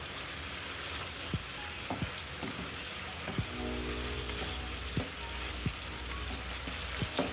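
Beef stew with added cumin sizzles steadily on low heat in a pan, a continuous close frying hiss broken by several soft knocks and scrapes of stirring, with no one speaking.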